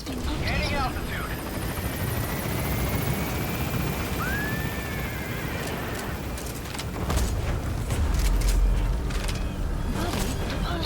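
Helicopter departing in the video game Metal Gear Solid V, a rotor roar that swells and pulls away amid game effects, a rising whine and rumbling bursts.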